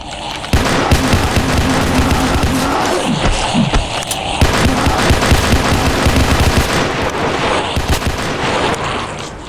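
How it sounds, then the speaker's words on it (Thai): Rapid bursts of automatic gunfire from a Roblox ghost-themed shooter game, loud and dense, rattling almost continuously with a short gap near the middle. "ไอ้ต้งหมดเหรอกระสุนปืนผมหมดเหรอ"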